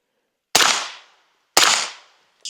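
Two sharp, loud shots from an Aero Precision EPC-9 pistol-caliber carbine fitted with a KynSHOT hydraulic buffer system, spaced about a second apart, each trailing off quickly, with the start of a third at the end.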